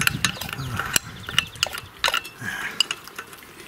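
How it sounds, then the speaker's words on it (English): Close ratchet clicking in quick bursts as a wrench loosens carburetor bolts on an old stationary engine after long storage, with sharp metallic clacks between the runs of clicks. "Okay, that first bolt is loosening nicely."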